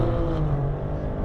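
Maserati Grecale Trofeo SUV accelerating hard at full throttle from a launch-control start, a steady loud engine roar with a low droning tone, continuous with no talk.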